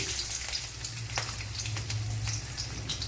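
Five or six garlic cloves and a little ginger fry in oil for a Kerala kadala (chickpea) curry, giving a steady, close hissing sizzle with small crackling pops and no talking.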